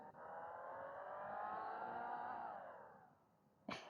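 Engine of a taxi in a video game straining loudly with a steady droning rev that holds, then falls away near the end, cut off by a brief sharp noise.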